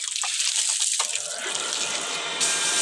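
Water pours steadily from a household tap, a loud, continuous hiss and splash close by with no voices over it.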